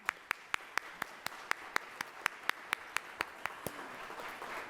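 Audience at a civic forum applauding its sponsors, a fairly sparse group whose distinct claps ring out rhythmically and then blend into softer, denser clapping toward the end.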